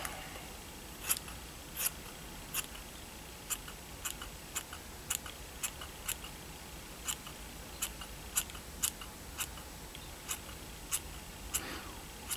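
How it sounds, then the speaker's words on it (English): Scissors trimming a doll's wispy short bob, a series of crisp close snips at an uneven pace, sometimes in quick pairs, over a quiet room with no talk. "I'm just going to go ahead and I'm going to take my scissors"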